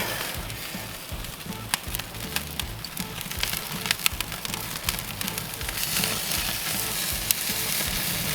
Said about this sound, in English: make sure we get this nice even sear all the way around